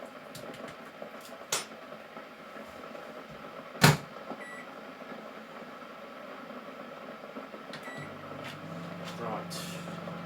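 A microwave oven hums steadily while heating a frozen linguine dish in a home kitchen, a low continuous drone with a few clicks and a sharp clatter partway through, and a slight change in pitch near the end.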